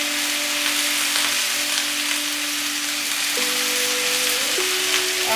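Malabar spinach cooks in a pan with a hilsa fish head, giving a steady, loud sizzle and bubbling from start to finish, with a faint tonal hum underneath and no talk.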